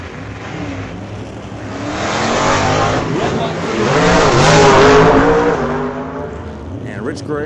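Race cars thunder down a drag strip as a Chevy Camaro runs against a 1967 El Camino, engines swelling loud and near with tire noise, an announcer talking over the roar.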